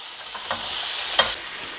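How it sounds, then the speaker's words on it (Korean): Stir-fried vegetables pushed to one side of a tilted frying pan, a steady close sizzle with a couple of brief scraping strokes across the pan. "이 볶은 야채도 한쪽으로 좀 밀어주시고요"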